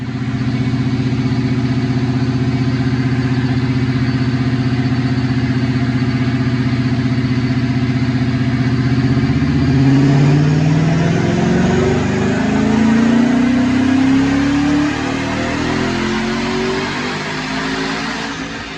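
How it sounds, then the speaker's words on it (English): Car with full bolt-ons and a Paxton Novi 2200 supercharger making a dyno pull, a loud steady engine drone that climbs in pitch as revs rise, with supercharger whine building through the second half. "let's check out the dyno pull"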